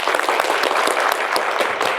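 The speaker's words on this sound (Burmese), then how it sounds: "လက်ခုပ်တီ" An audience claps for an influencer being honored for car sales. The clapping is lively and uneven, with individual sharp claps popping out of a continuous patter throughout.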